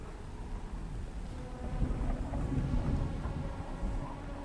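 Rainy storm ambience in the video game Beautiful Desolation, a continuous low rumble of thunder and wind under a steady rain wash, swelling midway and holding at moderate loudness, with no voices.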